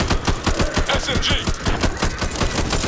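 Rapid automatic gunfire in the zombie shooter Back 4 Blood: a loud, dense, steady rattle of closely spaced shots running throughout the brief stretch, with no talking over it.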